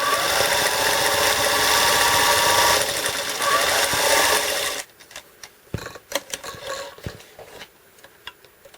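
A sewing machine runs steadily, stitching a seam through quilt fabric, then stops abruptly midway, leaving quieter handling clicks and rustles.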